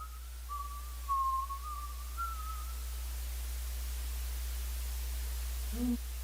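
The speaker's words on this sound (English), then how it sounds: "Timothy heard a familiar whistling coming from outside" A thin, wavering whistle drifts over a constant hiss of static, faint and distant, fading out after a few seconds.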